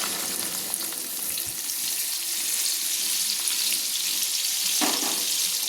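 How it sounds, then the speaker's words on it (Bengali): Ground spice mix frying in oil for a vegetarian cauliflower roast, a steady close sizzle and hiss that runs throughout, with faint stirring scrapes underneath. "ভালো করে আমি একটু তেলের সঙ্গে এই গুঁড়ো মশলাটা কষিয়ে নিচ্ছি"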